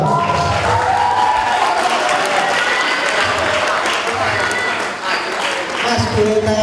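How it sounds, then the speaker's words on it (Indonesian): Loud, sustained applause from a school audience welcoming a student representative at a broadcast event, dense and steady throughout, with crowd murmur and voices mixed underneath. "Boleh tepuk tangan dong"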